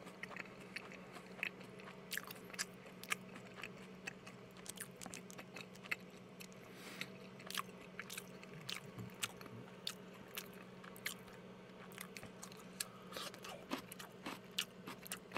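Steady close-up crunching and biting on BBQ maple butter garlic fried chicken, with sharp crisp bites recurring throughout over a low constant hum, no talking.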